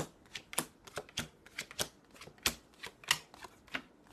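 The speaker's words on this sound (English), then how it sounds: "So shuffling the cards," Tarot cards being shuffled by hand at close range, a rapid series of crisp riffling slaps and flutters in an irregular rhythm, quiet and alone without speech.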